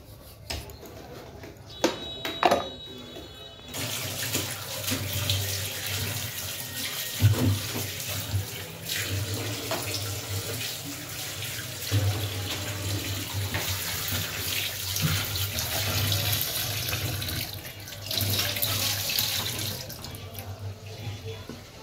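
A kitchen tap runs steadily into a sink while tomatoes and cucumber are washed, a close, continuous splashing rush that begins after a few seconds of handling clatter.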